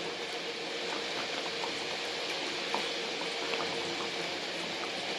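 A pot of country chicken mandi bubbles at a steady boil, a dense, even hiss of simmering liquid with scattered small pops throughout, no voices.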